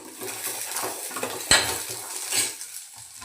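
Dried red chillies frying in a pan with onion while a quick chutney is made. A steady close sizzle runs under repeated stirring scrapes, with one sharp metallic clink of a utensil against the pan partway through.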